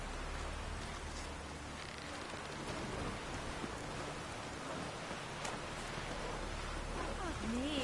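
Steady rain falling in The Witcher III, a dense, even hiss of drops on surfaces lasting throughout, with no voices over it.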